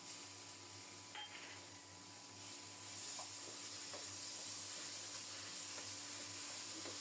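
A paste of ground onion, green chili and cumin fries in a pan for a rohu fish curry, giving a steady, quiet sizzle with a few light clinks of a spoon stirring.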